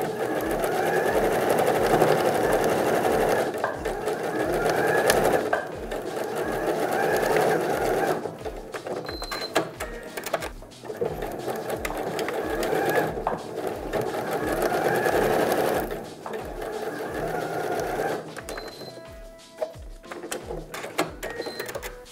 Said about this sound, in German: wir treffen uns gleich an der Nähmaschine